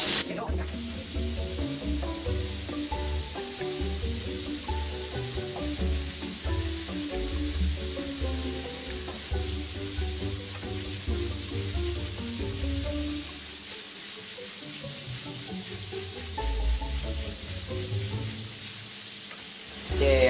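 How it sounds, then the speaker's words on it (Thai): Popcorn chicken deep-frying in hot oil gives a dense, continuous sizzle and crackle that stays steady throughout, with soft background music. "รีบเอามาทอดครับ"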